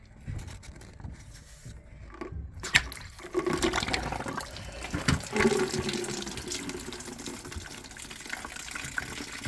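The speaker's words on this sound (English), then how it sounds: "It's just the water coming out of the pipe because all the water is turned off." Water gushes from a plumbing pipe opened during an ensuite bathroom renovation with the supply turned off, a steady rushing, splashing flow that swells after a few seconds and runs on continuously, fairly close.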